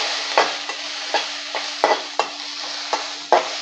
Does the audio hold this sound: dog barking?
no